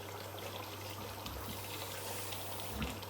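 Water poured from a container into a pot for a homemade peanut soup, a steady faint splashing and trickling stream that runs throughout, with a low electrical hum underneath.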